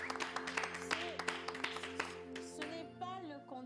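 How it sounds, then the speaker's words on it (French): A television talent-show audience on The Voice applauds a coach. The short patter of clapping comes through under music and voices. "Ce n'est pas le candidat qui a été applaudi, c'est le coach."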